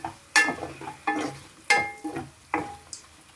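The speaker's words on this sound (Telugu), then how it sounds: "ఇప్పుడు కలిపేసేసుకుందాం" A spoon stirs Ullikadala chicken fry, chicken with spring onions, in a pan, making about six sharp scraping clanks in an uneven rhythm over a soft sizzle, close up and with no voices.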